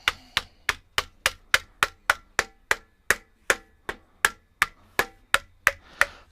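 A hammer strikes an aluminum rudder tip rib for an experimental Zenith 701 airplane, about twenty sharp, close metallic blows in a steady, even rhythm, alone without talk.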